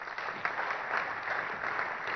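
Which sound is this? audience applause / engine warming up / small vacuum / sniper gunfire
audience applause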